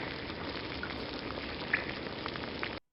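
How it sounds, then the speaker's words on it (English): Mercury dripping ambience from the game Heroes of Might & Magic 1: a steady crackling, fizzing bed like a campfire, with a few brighter drip plinks rising out of it, then it cuts off abruptly. "So mercury dripping is number 8."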